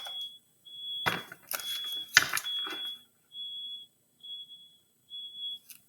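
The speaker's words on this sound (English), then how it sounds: "I do not know what that beeping is." High-pitched electronic alarm beeps, like a smoke detector, repeat in steady on-off pulses, with a few loud thumps and clatters in the first half and no talking.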